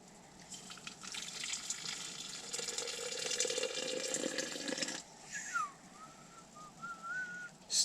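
Hot water poured and steaming inside a heated Pomoly Chalet 70 tent during winter camping, a steady close hissing gush lasting several seconds, then thin whistling tones as it settles.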